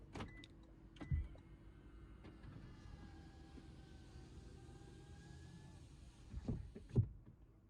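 A Lexus GX460's power windows and sunroof run on a remote module: a soft click, then a sustained, quiet electric motor whine for a few seconds, ending with a couple of louder thumps and clicks.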